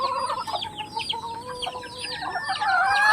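Gamefowl in a backyard flock, a stag and a broodcock, cluck repeatedly with a rooster-like call rising near the end, set against a steady bed of outdoor ambience and other bird chatter; no one speaks.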